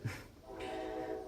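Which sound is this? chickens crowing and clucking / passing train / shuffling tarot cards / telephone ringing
passing train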